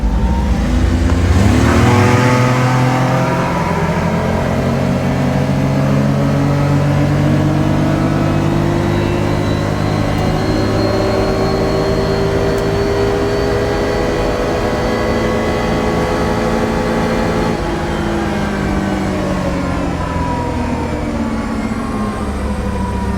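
A 2026 Can-Am Defender Limited HD11 off-road UTV roars as it accelerates hard, the pitch climbing steadily through a long full-throttle pull, then easing slightly near the end.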